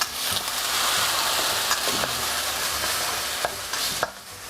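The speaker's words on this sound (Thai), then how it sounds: "ก็ค่อยๆผัดไปเรื่อย ๆนะครับ ผัดจนพริกแกงเริ่มมีกลิ่นหอมนะครับ" Thai curry paste stir-fried in a pan with a little oil and water, a close, constant sizzling hiss broken by several sharp scraping strokes of a spatula, with no one speaking.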